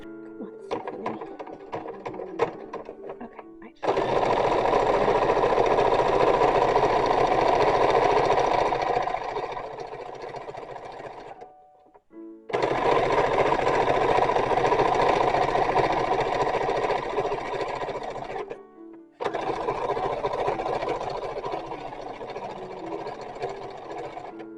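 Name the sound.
sewing machine stitching garter fabric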